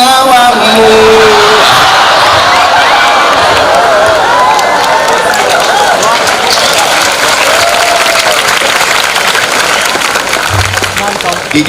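A large audience at a religious talk breaks into loud, sustained applause mixed with crowd noise and some cheering, with voices present throughout.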